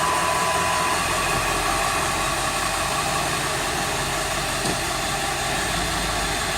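Ford F250/F350 truck engine running at idle after an automatic transmission fluid change, a steady broadband whirring drone with no speech, even and continuous throughout.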